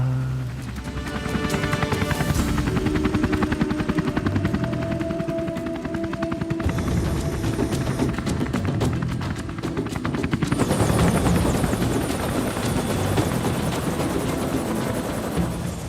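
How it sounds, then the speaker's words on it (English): A helicopter's rotor thumps loudly and steadily, close by, with a whining engine tone, lasting the whole time with no talking. "I hear a chopper."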